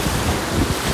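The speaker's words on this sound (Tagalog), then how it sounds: "Malalaki ang alon." Big ocean waves breaking on a rocky shore during crab hunting in Tanza, Cavite, a loud continuous roar and wash of surf mixed with heavy wind buffeting the microphone.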